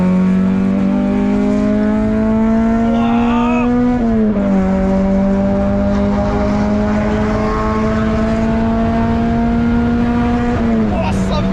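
A Honda Civic Type R engine drones loudly at steady high revs below VTEC, pitch dipping and rising briefly as it shifts, with people talking over it inside the cabin.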